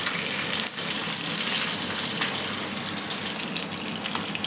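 Fish frying in a pan, a steady broadband sizzle that holds at an even, close level for the whole stretch with no voices over it.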